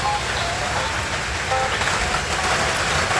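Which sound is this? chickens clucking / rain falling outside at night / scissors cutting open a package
rain falling outside at night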